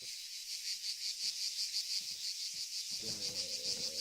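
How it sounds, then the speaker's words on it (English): Grasshoppers chirping in a field in Arma 3, a dense pulsing insect trill repeating steadily throughout, with a faint low hum entering near the end. "Can you hear the grasshoppers, mate?"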